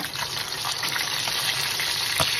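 Galunggong fish frying in hot oil, a steady close crackling sizzle with a few sharper pops, heard alone without talk.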